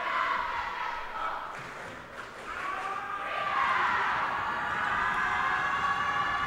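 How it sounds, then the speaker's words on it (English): Home crowd at a high school basketball game, Waterbury Career Academy versus Holy Cross, rising into a loud sustained roar and shrill whistling during a free throw. "Spartans crowd trying to distract him a little bit."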